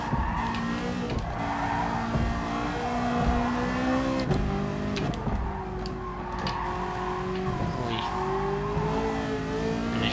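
A Mazda RX-7 race car in a PS4 racing game howls through revving, shifting engine tones with tire squeal and skids, a continuous loud drone that swells and dips across the lap, with no talking.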